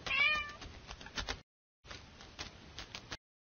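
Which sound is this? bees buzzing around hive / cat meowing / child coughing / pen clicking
cat meowing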